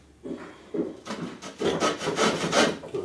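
An angle grinder cuts through a fireplace part on a workbench, giving a rough, rasping, pulsing sound that starts after a brief pause and grows louder and more continuous, close up with no talk.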